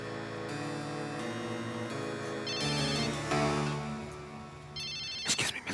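A mobile phone rings in a cinema, its melodic ringtone repeating in clear bursts of tones for several seconds before ending in a few short clattering sounds.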